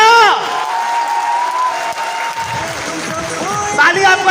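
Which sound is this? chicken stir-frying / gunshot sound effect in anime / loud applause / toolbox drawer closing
loud applause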